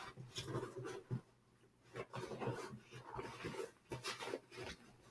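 A needy dog, fresh from a haircut, pants rhythmically at close range beneath a desk in a quiet room, a steady soft breathing pattern with brief whimper-like bursts.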